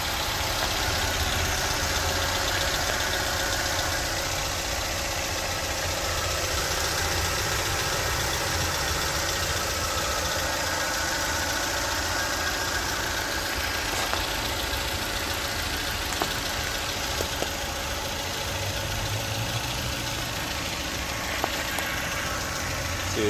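Hyundai Elantra engine with a failing alternator idling steadily just after starting, a continuous even rumble with faint ticking, heard close and without talk.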